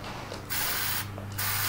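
A paint spray gun hisses in steady bursts while coating a vintage fishing lure during custom painting, with two short pauses between sprays, close up and with no talk.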